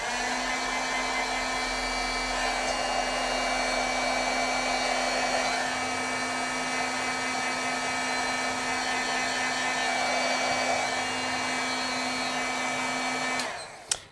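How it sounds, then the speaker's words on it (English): A heat tool for setting stamped ink blows with a steady, loud whooshing whine for about thirteen seconds, then switches off abruptly with a short click at the end; nobody talks. "Let's heat set a little bit."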